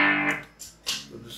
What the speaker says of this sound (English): To overdrive,